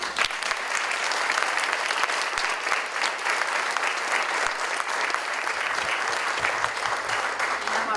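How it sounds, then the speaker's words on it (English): Steady applause from an audience at a women-in-business chamber of commerce luncheon fills the room, sustained clapping from many people lasting several seconds. "I think you deserve a round of applause."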